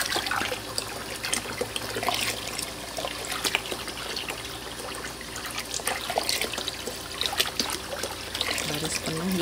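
Tap water runs and splashes steadily while bamboo shoots are washed in a full basin for pickling in Taiwan, a continuous trickle with a few louder splashes and faint voices in the background.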